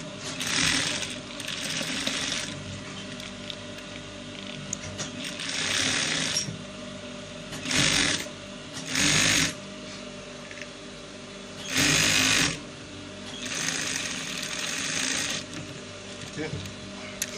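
A sewing machine stitches a rope trouser in short bursts of steady whirring, starting and stopping several times with quiet pauses between runs.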